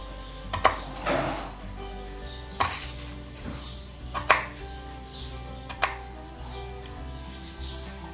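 A knife finely chops green chillies on a board in a handful of sharp, irregular strikes spread over several seconds, close by and alone except for faint background noise.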